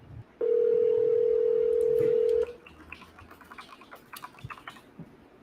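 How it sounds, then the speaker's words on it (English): A steady telephone dial tone sounds loud and close for about two seconds during a live cold call, then cuts off, leaving faint clicks and low background noise. "Good job dialing the next number, Jake."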